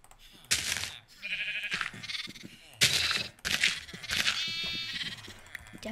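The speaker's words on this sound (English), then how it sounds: "One rainbow sheep." Sheep in a Minecraft game bleat in several loud, wavering calls spread across a few seconds, alone and close, with small blocky clicks and thuds between them.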